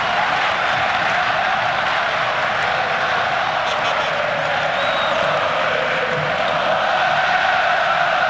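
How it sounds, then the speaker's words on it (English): Crowd at the 1996 Futsal World Cup final in Spain, Spain versus Brazil, roars and sings in a steady, dense wash of cheering, with some chanting and applause filling the arena throughout. "A delighted crowd now. Certainly can sing."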